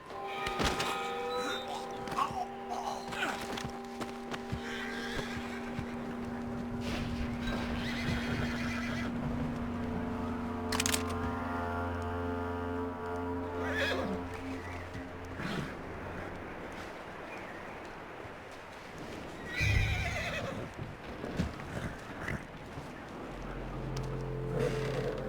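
A horse in the video game Red Dead Redemption 2 whinnies loudly and repeatedly while its hooves clip-clop and shuffle nearby, with scattered thuds and a low rumble in the background.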